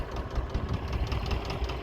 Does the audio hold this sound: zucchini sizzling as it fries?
no